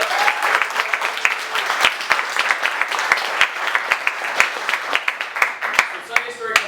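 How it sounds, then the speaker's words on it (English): Audience applause for the team behind a community storytelling event, a dense spread of claps with sharper individual hand claps popping out, steady throughout and with voices faintly under it. "I want to give a big round of applause for the team."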